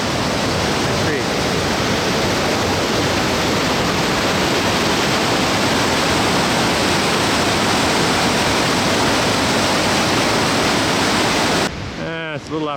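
Loud, continuous rush of a snowmelt creek along the trail to Colchuck Lake near Leavenworth, Washington, a dense roaring wash of water close by that fills the scene before a brief break at the end.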